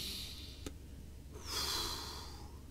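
A person draws in a deep breath during a guided French meditation, a soft airy inhale that swells and then fades, preceded by a brief faint click, quiet and close with no talking.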